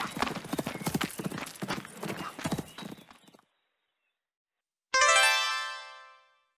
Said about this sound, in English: I can catch the horse.